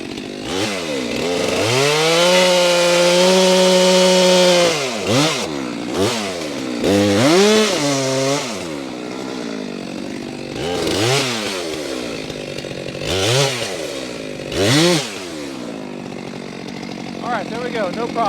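Chainsaw cutting through pin oak firewood, its engine revving high and steady for several seconds, then dropping and surging again in repeated bursts as the cut finishes, loud and close.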